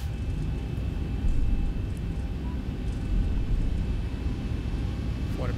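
Boeing 737-800 jet engines spool up during a takeoff roll in the X-Plane 11 flight simulator, a steady loud low roar that swells slightly and holds.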